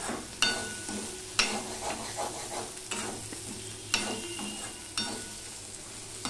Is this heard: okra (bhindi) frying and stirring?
yes